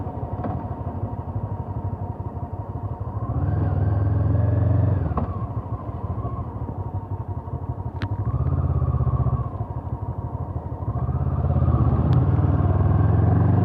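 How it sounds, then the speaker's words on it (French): A Honda CBF 500 motorcycle riding along a road: a steady close engine drone that swells as the rider accelerates through the gears, dropping back briefly between shifts, with continuous low rumble throughout. "C'est une moto qui a 20 ans de conception"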